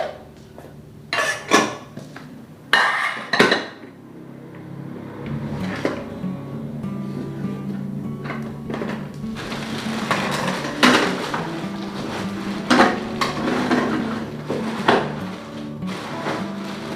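Spoons, forks and drinking glasses being packed into a hiking carrier backpack, giving a series of close, sharp clinks and knocks with rattling and rustling in between, no talking.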